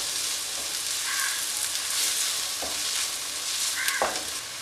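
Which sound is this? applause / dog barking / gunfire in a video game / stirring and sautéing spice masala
stirring and sautéing spice masala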